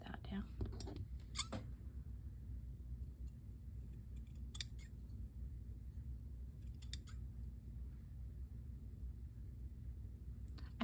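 Scissors snipping through Pokémon card packaging, a few quick sharp cuts early and scattered snips later, close and quiet over a low background hum.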